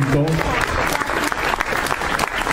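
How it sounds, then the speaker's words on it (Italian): Applause from a gathered crowd at an Armed Forces national unity day event in a small Italian town, steady clapping with a voice briefly heard over the opening moment. "al quale io farei un applauso forte"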